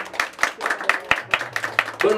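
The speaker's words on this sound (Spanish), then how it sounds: "Un aplauso bien bonito, por favor." Guests clap along at a birthday mariachi performance, a brisk run of close claps with a sustained tone and voices mixed in beneath.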